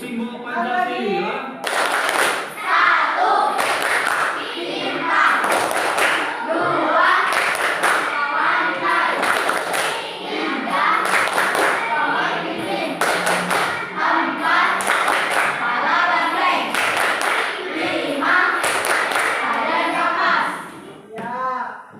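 Schoolchildren chant the Pancasila symbol clap together in a classroom, sharp claps in regular rhythmic clusters mixed with loud group voices throughout.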